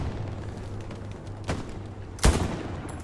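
Machine gun fire in the World War II shooter game Hell Let Loose: two sharp bursts ring out over a steady low battlefield hum, the second louder and closer.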